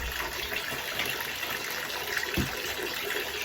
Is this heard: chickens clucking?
no